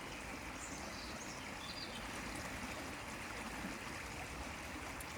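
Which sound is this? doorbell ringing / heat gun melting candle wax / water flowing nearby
water flowing nearby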